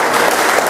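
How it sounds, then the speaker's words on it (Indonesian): A congregation bursts into loud, continuous applause and cheering for Jesus at a church service, a dense close wash of clapping filling the whole brief moment with no break. "Berikan sorak-sorai buat Tuhan Yesus."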